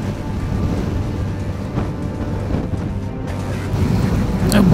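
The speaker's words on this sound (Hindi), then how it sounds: "भाई बहुत भयंकर हवा चल रही है," Very strong wind buffets the microphone on a steep, sandy mountain road near Hanle in Ladakh, a loud continuous roar and rumble across the whole stretch, swelling slightly toward the end.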